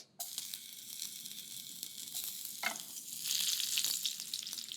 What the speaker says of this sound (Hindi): अच्छे से सेक लेता हूं, फिर टमाटर